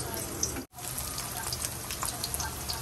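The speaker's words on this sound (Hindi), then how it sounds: "तो इसी तरह मैं सारे फ्राई कर लूंगी।" Bottle gourd (lauki) slices shallow frying in oil in a pan, giving a steady close sizzle with a brief dropout partway through, no talk.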